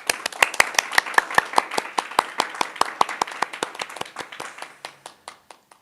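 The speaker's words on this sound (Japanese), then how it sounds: "改めて5チームの皆様に対して大きな拍手をお願いいたします。" A small audience at a hackathon demo day claps for the presenting teams. The claps are distinct and fairly close, keeping a steady rhythm at first and then thinning and fading out.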